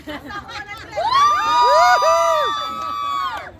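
A crowd at a basketball championship game erupts in loud shouting and high-pitched cheering, with children's voices and whoops rising and sustaining for a few seconds.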